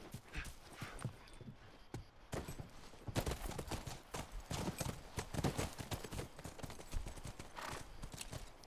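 Horses' hooves clip-clop in The Last of Us Remastered, a fairly quiet, uneven run of close hoofbeats with light background noise and no talk.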